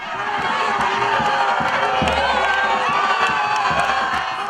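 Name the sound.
crowd cheering as Congolese presidential couple greets them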